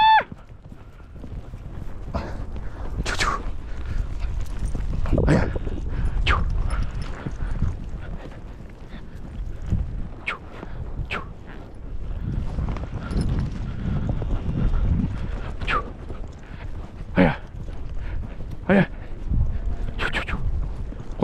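Horses' hooves clip-clopping at a steady walk while riders herd cows on a farm, close and moderately loud, with occasional whinnies, animal calls and brief voices.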